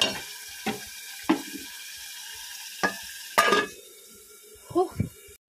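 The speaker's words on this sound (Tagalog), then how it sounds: "So, prito na natin siya." Metal utensils clink and scrape against a pan a few times, then a steady hissing sizzle of chicken frying rises and continues underneath.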